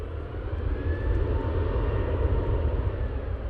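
Airliner performing a go-around at Manchester Airport, a steady distant engine roar that swells slightly and holds throughout.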